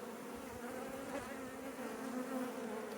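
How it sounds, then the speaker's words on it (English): Bees fanning at the entrance of their nest in a wall make a dense, steady hum that stays close and continuous throughout, with no voices. "see the bees on the top fanning away"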